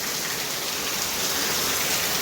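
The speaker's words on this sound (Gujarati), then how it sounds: "વરસે ભારી હો અટાણે" Heavy rain pours down in a dense, unbroken hiss, loud and close, with no voices or other sounds over it.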